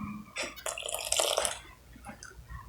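Water is poured slowly into a bowl of flour with melted butter for Jamaican fried dumplings, a short close trickle and splash lasting about a second, then a few faint drips.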